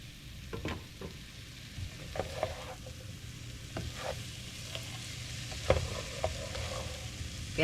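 Cubed potatoes and sliced kielbasa sizzle in a frying pan while a spatula scrapes and stirs the bottom with repeated clacks, a steady close-up fry of about three pounds of food, no talking.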